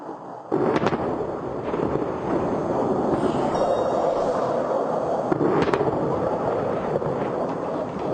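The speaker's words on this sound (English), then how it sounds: "Tremendously powerful blasts less than half a mile from our position here on the Israeli side of the border." Israeli airstrikes land in the distance near the border, a few sharp blasts punching through a continuous broad rumble that fills the whole stretch.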